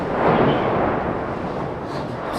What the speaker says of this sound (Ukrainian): Обстріли у Бахмуті майже не стихають.